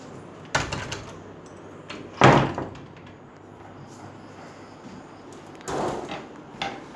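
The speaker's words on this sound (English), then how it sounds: "Excuse me, I'm going to close the door." A few wooden knocks and thumps as a door swings shut, one firm closing bang in the middle, with quiet room sound between.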